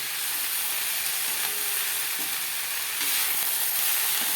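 Capsicum and onion sauté in a pan with a continuous crackling sizzle, close and steady, growing slightly louder near the end as the vegetables are stirred.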